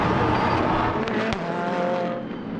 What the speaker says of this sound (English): Duncan Cameron in the Spirit of Race Ferrari, chasing Christian Reed, loops it round into a 720